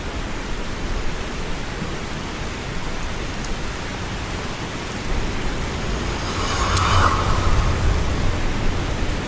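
Steady rain hisses through a night scene in an action film, a dense, constant wash of noise with no voices that swells slightly louder toward the end.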